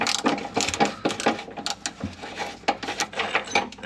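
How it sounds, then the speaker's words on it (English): A 13mm socket ratchet works a bolt loose on a VT Commodore, giving quick, close clicking and mechanical ticks in an uneven rhythm with short pauses. "A 13mm socket, just undo that bolt."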